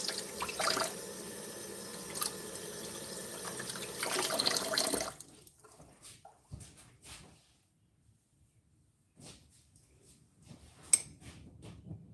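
Water from a kitchen tap runs steadily as something is rinsed while making smoked salmon cakes, a close hiss lasting about five seconds before it stops, followed by faint clinks and small handling noises.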